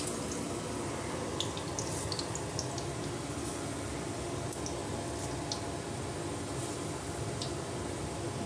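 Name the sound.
mustard seeds and cumin spluttering in hot oil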